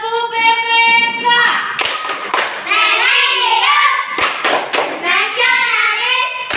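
A group in a classroom performs the PPK clapping chant, voices chanting loudly in rhythm, punctuated by a few sharp, close clusters of hand claps.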